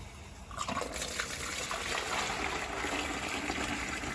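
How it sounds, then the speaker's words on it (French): Rinse water pours steadily out of a jacketed multipurpose reactor as it drains after stirring is stopped, a continuous close rushing gush that starts about half a second in and holds level to the end, with no voices. "Nous allons couper l'agitation et vidanger le réacteur."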